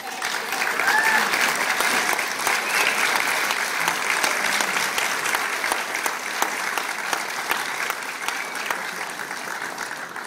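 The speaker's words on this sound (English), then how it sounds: "give our families and friends one more round of applause who are putting up with us." Sustained applause from a graduation ceremony audience, a dense, even wash of clapping that holds steady at full strength for about ten seconds before easing slightly toward the end.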